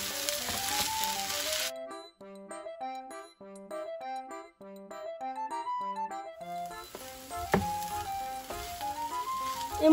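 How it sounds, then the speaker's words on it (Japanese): Rice sizzles in a hot frying pan, a hissing crackle that drops out briefly while a light, plinking melody plays, then returns under the music. "いや、ジュージューなるな。"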